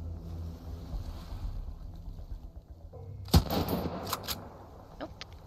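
Gunfire in Sunkenland: a single sharp shot cracks out near the middle over a low wind-and-sea ambience, followed by a few scattered, fainter reports.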